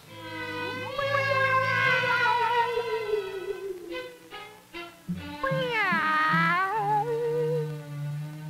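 A cat meows in long, drawn-out wails, the pitch rising and falling, loud and close, with a steady low hum underneath.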